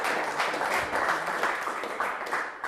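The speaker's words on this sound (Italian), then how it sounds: "Facciamo un applauso a Paola Rizzotti" Studio audience clapping on an Italian TV quiz show, a steady wash of applause at moderate level with no talking over it.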